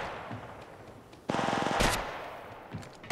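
Automatic gunfire in the video game Apex Legends rattles out in one rapid, loud burst of closely spaced shots. A sharp blast follows it, with a few faint clicks before and after.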